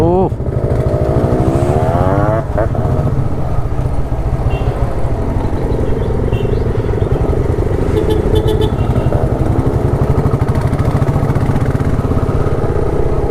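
Motorcycle engines roar close by in Kerala, revving and droning steadily as bikes pass, with people talking over the engine noise.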